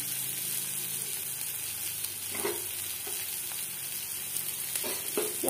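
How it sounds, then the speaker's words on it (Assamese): Chopped onions sizzle steadily in oil left over from frying mowa fish for an Assamese charchari, a close, continuous frying hiss with a few soft stirring knocks and no talk. "এতিয়া মাছ ভজা তেলখিনিতে আমি পিঁয়াজখিনি দি ল'ম"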